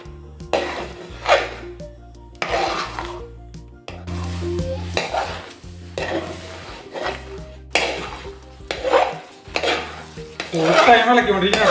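A spoon stirs beetroot halwa with butter and sugar in a pan, giving repeated scraping and sizzling strokes in uneven bursts, with soft clinks against the metal.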